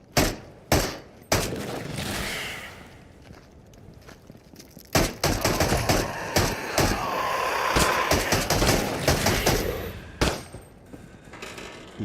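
PPSh submachine gun fired in a video game, heard as several sharp, loud bursts of rapid shots with thuds and impacts between them, spread unevenly across the clip with no talking.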